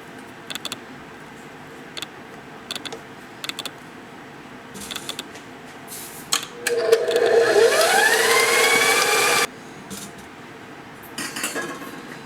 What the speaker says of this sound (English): we're using this type of mixer and not a nice hand mixer